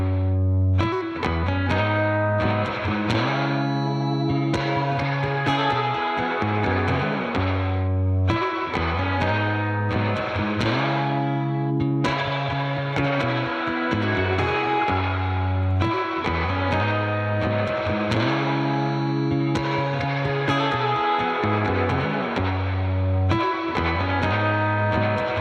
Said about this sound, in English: let's add that to the reverb sound.